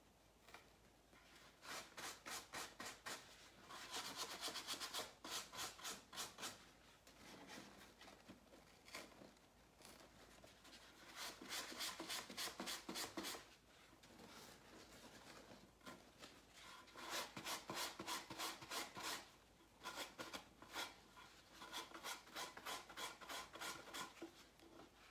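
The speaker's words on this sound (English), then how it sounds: "I will just take the sanding block" Rapid back-and-forth rasping strokes of a sanding block trimming wood on decoupaged dresser drawers come in several bursts separated by brief pauses, close and fairly quiet.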